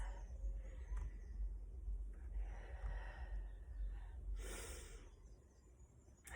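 Deep, steady breathing during a prenatal and postnatal warm-up exercise. Soft breaths rise and fall over a low background hum, with a slightly stronger exhale near the end and no talking.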